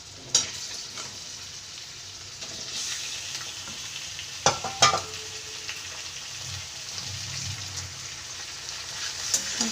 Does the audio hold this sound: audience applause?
no